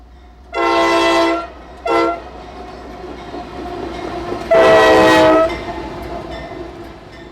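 A lone Norfolk Southern AC-44 C6M locomotive, number 4600, sounds two loud horn blasts, a short toot, then a longer blast, over the low rumble of the engine passing nearby.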